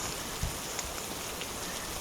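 Steady rain falling on tents at a woodland wild camp in Clapham Woods, Sussex, at night, a continuous soft patter with a few louder drops and no voices.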